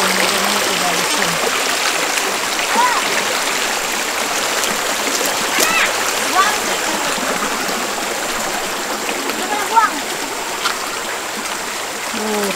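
River water flows steadily over slippery rocks, a constant close rushing babble with small splashes, while people talk faintly nearby.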